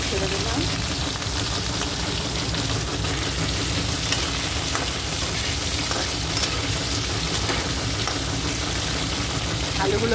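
Potatoes fry in hot oil in a pan with a steady, close, crackling sizzle that runs unbroken throughout.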